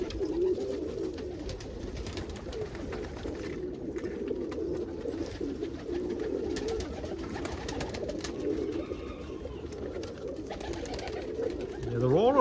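Homing pigeons coo and stir on a warm afternoon, a steady low murmur of overlapping coos filling the background, with a brief louder bird sound near the end.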